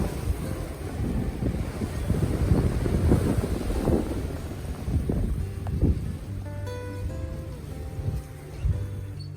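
Strong outdoor wind buffeting the microphone in heavy, uneven gusts, with a faint tonal hum appearing partway through.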